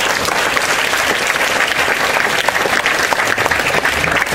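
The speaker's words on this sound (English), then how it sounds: "Round of applause to Steve." Audience at a technology event gives a round of applause, loud and close, a thick, continuous patter of many hands clapping without pause for about four seconds.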